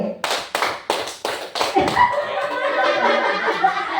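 Children in a classroom clap their hands in a counting game, giving a quick run of five or six sharp, evenly spaced claps close by, followed by chatter and light laughter.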